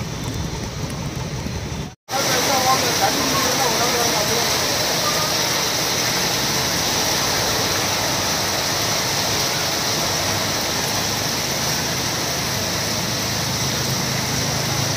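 Heavy rain pours over city traffic near Saidapet metro in Chennai, a loud, continuous hiss after a brief cut near the start, with speech over the downpour.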